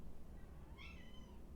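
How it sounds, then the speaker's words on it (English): A cat gives one brief, faint meow in a quiet indoor room, heard alone against a low background hum. "my cat's meowing"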